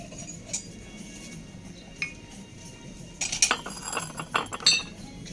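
A porcelain tea-set saucer with gold net pattern clinks against other dishes, starting with a few faint taps, then a cluster of sharp, bright clinks near the end.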